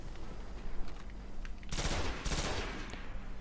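Tank gunfire in the video game Destiny, a burst of rapid shots that swells into two heavy, loud salvos of booming fire over a low rumble.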